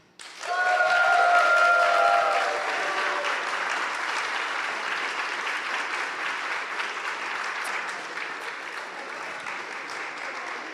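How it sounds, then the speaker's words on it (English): Loud audience applause greets a startup team walking on stage at a demo day event, a dense wash of clapping that swells at once, peaks for a couple of seconds, then settles into steady, slightly softer applause that continues throughout. "let's all welcome with a clap"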